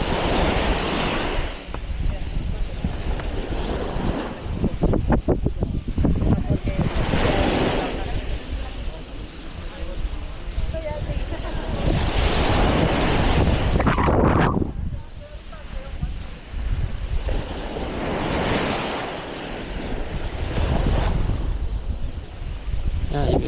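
Strong wind gusts buffet the microphone in loud surging waves on a white sand beach, with surf rushing in the background and a person talking intermittently.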